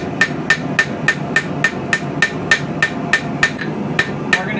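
A light rounding hammer strikes a steel knife blade in steady, evenly spaced ringing blows, about three per second. The hits are crisp and close, with no talk.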